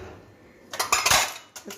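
Small metal cooking pots and utensils clink and rattle together in a brief, close cluster of bright knocks after a quiet moment, with one last tap at the end.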